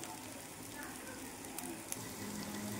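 Rice lightly frying in a pan, giving a steady, soft, close sizzle that continues evenly throughout.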